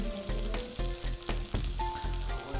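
Eggs fry steadily in a hot pan while egg bread masala is being made, with a constant close sizzle and a few clinks and scrapes from stirring.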